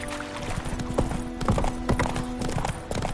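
Horse hooves clip-clop in a video game as a rider sets off, a brisk run of close, even hoofbeats with a brief whinny mixed over soft background ambience.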